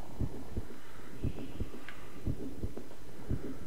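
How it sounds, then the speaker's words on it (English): Heartbeat sound effect from the video game Monaco, a loud, close, low double thump repeating at a steady quick pace throughout. "That heartbeat, though."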